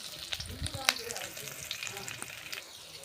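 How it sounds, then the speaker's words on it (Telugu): Onions, curry leaves and green chilli fry in oil for Rayalaseema-style uggani, giving a quiet, steady sizzle with a few sharp crackles and pops near the start. "ఇలా ఆనియన్స్ వేగనివ్వాలి బాగా"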